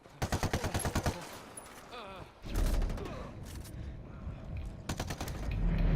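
Rapid bursts of gunfire in a PVP video game, with sharp repeated shots at the start and again near the end, over constant game ambience with voices in the background.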